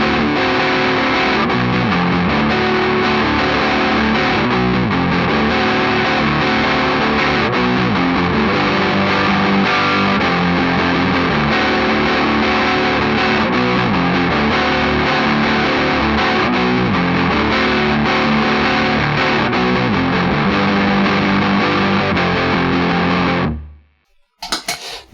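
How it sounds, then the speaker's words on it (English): A heavily distorted electric guitar plays a chugging chorus riff with drums, loud and continuous for over twenty seconds before cutting off. "the drums come in, we kick on some distortion,"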